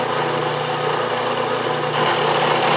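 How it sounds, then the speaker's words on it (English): A milling machine runs a carbide cutter through metal, a steady loud whirring hum that grows slightly harsher and louder about two seconds in. "This is a carbide cutter."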